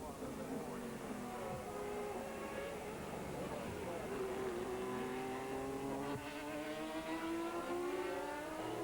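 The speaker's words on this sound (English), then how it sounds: "Victoria really sliding the back end of that Ferrari around." Ferrari sports prototype race car at a Sportscar World Championship round in 2000, its engine note rising and falling steadily as it slides around the circuit, with a commentator talking over it throughout.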